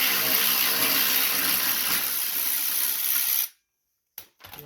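A 10mm socket ratchet works a cover bolt loose on a John Deere LA145 riding lawn mower, a dense, steady mechanical clatter that runs for several seconds before cutting off abruptly, followed by a couple of faint knocks.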